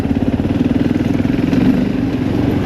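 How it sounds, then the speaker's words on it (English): An Italian motorcycle engine runs steadily nearby, a continuous low throbbing idle with a pulsing rhythm and no one talking. "That's why I'm sat here on an Italian bike"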